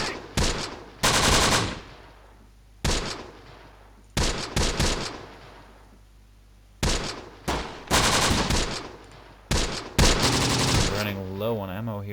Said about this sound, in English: Need that MG to actually do some shooting.